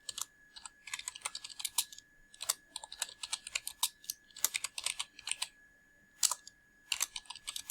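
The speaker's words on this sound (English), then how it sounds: "we're now going to type the address" Someone typing an address on a computer keyboard: quick, close bursts of crisp key clicks separated by short pauses, with no talking.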